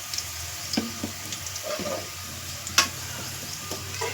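Curry leaves and oil sizzle softly in a pan while uggani bajji is cooked Rayalaseema-style, a faint steady fry with scattered light clicks and stirring taps and no talking.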